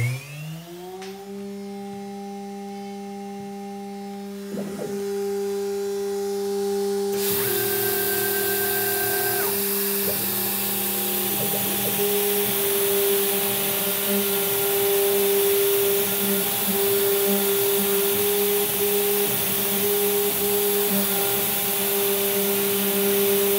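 A CNC engraving machine cuts tool steel for a chuck key: a high spindle whine with steady tonal hum, then a louder hissing cutting noise joins and continues with light scraping and chattering throughout, close by.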